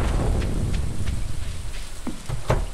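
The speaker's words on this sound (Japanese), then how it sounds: "雷の再現、音の再現がすごいですね。" Steady rain pours during a thunderstorm in the farming game Stardew Valley, a dense, low, rumbling wash with scattered faint ticks and thumps throughout, continuous and fairly loud with no voices over it.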